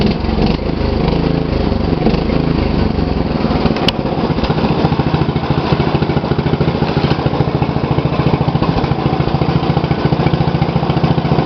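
A 2012 MTD lawn tractor engine runs steadily up close, then is revved, its rough pulsing drone growing faster and more insistent over several seconds.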